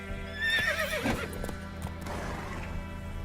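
Roach the horse in The Witcher 3 gallops with steady clip-clop hoofbeats and lets out a loud whinny near the start, with no talk over it.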